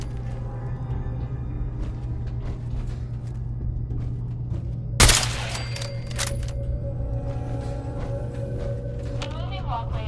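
A sudden gunfire burst erupts in Fallout 4, a single loud crack amid a steady droning in-game ambience with voices from the game.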